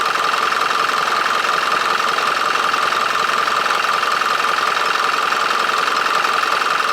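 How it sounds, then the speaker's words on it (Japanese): Steady, continuous drone of a Toyota Dyna 4WD truck's N04C-TB 4-litre intercooled turbo diesel engine running at idle, close and even with a fine knocking texture, no voices. "エンジンは4リッターインタークーラーターボ付きです。"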